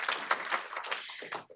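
Audience applause at a storytelling event in a meeting on redesigning the clinical learning environment, a brief burst of scattered hand claps that thins out quickly.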